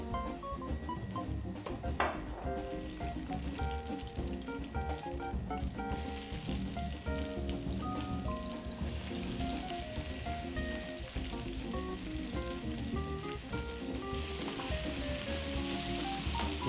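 Vegetables including eggplant sizzling in oil in a pan for a Mexican chicken burger, a steady moderate hiss with occasional light clinks and stirring throughout, no talking.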